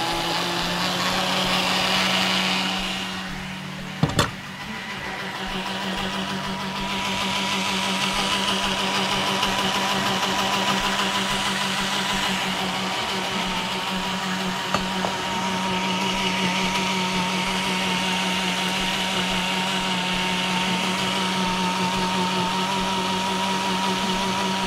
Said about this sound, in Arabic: الخلاط ده سرعته عالية فممكن تاخد 3 دقايق ما توصلش للخمسة